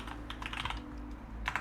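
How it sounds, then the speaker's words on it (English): Computer keyboard typing a terminal update command on a Pop!_OS Linux system: a brisk run of close, clattering keystrokes, then a short pause and a couple more taps, with a steady low hum underneath and no talking. "I'm gonna go ahead and type sudo apt update, put in my password"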